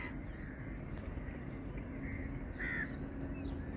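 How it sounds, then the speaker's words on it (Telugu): Crows cawing near an old temple in Dwarka at sunrise, a couple of short distant caws over a dense, steady outdoor wash of ambient noise, no talking. "వివిధ రకాల జాతులు పక్షులు ఇవన్నీ కూడా ఇక్కడ ఉన్నాయి."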